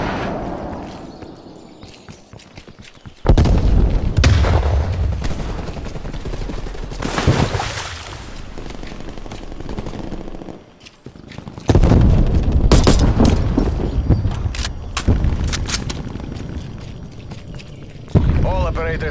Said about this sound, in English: Net call, incoming artillery.